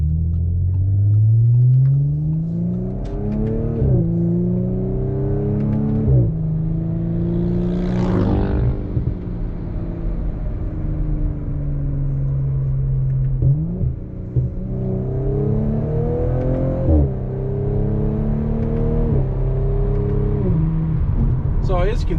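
A 2021 Audi S4 with an AWE exhaust accelerates in manual mode, its engine droning and rising through several gear changes with rev drops between shifts, loud and close from inside the car.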